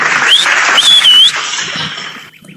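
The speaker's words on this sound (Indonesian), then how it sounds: "Tepuk tangan lagi deh." An audience claps in a broadband burst, with a sharp whistle rising above it, dense at first and then thinning and fading out.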